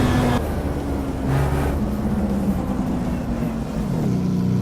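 Maserati MC12 GT1 engine in the Simraceway racing game, a steady droning note that holds and then shifts pitch as revs change, loud and continuous throughout.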